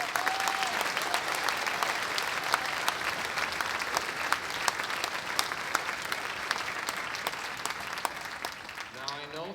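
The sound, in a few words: audience applause for the custodians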